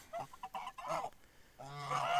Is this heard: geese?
yes